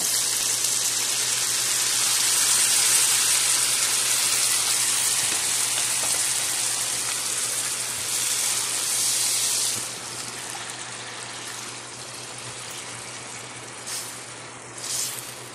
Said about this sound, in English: now I want to go ahead and add in some beef broth